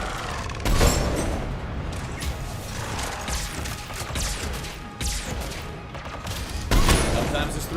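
Gunfire in the video game Mass Effect 3, a handful of sharp shots and mechanical clanks scattered across the stretch amid busy game noise.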